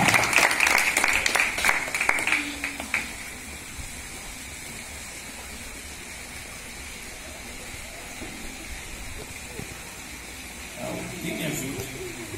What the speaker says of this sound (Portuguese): Salva de palmas, bem alegre.